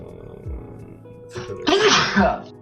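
A sharp, close sneeze bursts out in one explosive blast, with faint voices and low background noise around it.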